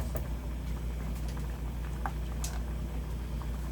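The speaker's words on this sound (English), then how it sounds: "So I'm gonna let this boil for 3 minutes or less until it gets soft then" Potatoes boil in a pot of water for a Guyanese sweet potato salad, a steady bubbling and popping patter close by with a low constant hum underneath and no talk.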